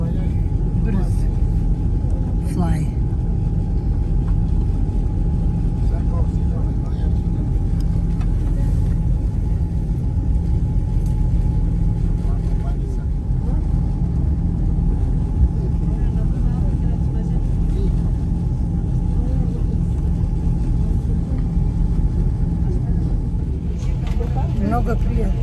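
A fast passenger boat travelling from Athens to Aegina rumbles with a steady, loud low engine drone that runs unbroken throughout, with faint voices in the background.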